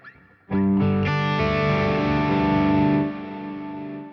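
Distorted electric guitar from a Neural DSP Quad Cortex rings out loud and saturated, with a couple of chords struck in quick succession and then sustained before cutting back to a fading tail.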